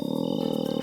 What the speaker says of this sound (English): It sounded like a wild animal.